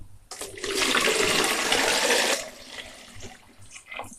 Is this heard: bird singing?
no